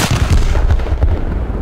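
HMS Renown's 381mm naval guns fire in War Thunder, heavy booming blasts in quick succession with deep rumbling echoes that fade away, loud and close.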